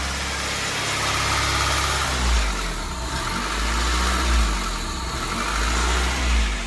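A car engine idles nearby in a steady, low rumble with slight rhythmic pulsing, no voices over it.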